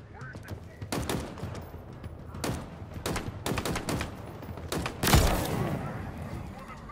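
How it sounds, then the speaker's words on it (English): Gunfire in a video game, a ragged string of sharp shots in uneven bursts with a heavier blast near the end, close and loud. "Shots fired"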